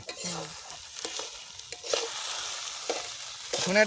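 Ground spices, salt, turmeric, cumin, coriander and Kashmiri chilli powder, frying in a pan for cauliflower chops, with soft sizzling and a few scraping stirs of a spoon across the pan.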